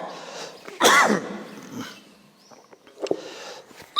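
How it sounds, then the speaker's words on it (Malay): A single sharp cough from a man during an Islamic religious lecture, loud and close, followed by faint throat noises and quiet shuffling. "batuk sikit."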